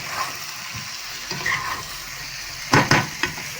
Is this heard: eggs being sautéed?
yes